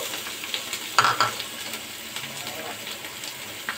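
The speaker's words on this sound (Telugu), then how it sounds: "పుదీనా 1 కప్పు, కొత్తిమీర 1 కప్పు వేసి వేయించుకోవాలి." Fresh mint and coriander leaves frying in a pan with ginger-garlic paste and fenugreek greens for chicken dum biryani, a soft steady sizzle with brief louder crackles.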